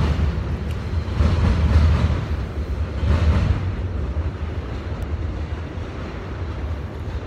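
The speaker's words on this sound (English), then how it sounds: "train to pass" A train rumbles past nearby with a steady low roar that swells and fades slightly, with some wind buffeting the microphone and no talking.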